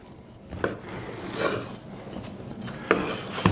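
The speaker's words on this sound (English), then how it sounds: "with this loaf, what I do, quite simply, I just slice it." A knife saws through a week-old loaf of bread with a crusty exterior, soft rasping strokes punctuated by a few crisp crackles and light clicks against a board, close and fairly quiet.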